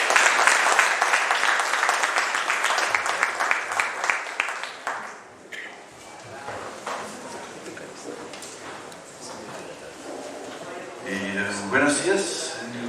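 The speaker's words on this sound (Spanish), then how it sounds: "Un fuerte aplauso" Conference audience applauding a speaker on a nanoparticle measurement panel, clapping loud and dense at first, then thinning out and fading, with scattered room sounds and a voice briefly heard near the end.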